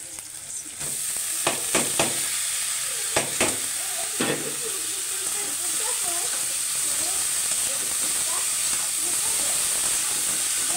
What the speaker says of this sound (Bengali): চিংড়ি মাছ ও পেঁয়াজ ভাজা হয়ে গেছে, এখন আমি কলার থরটা দিয়ে দেবো।